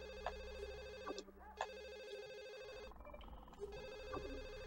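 Telephone ringing in The Sims Bustin' Out on PS2, a repeated electronic ring pattern with several pulses over quiet game background.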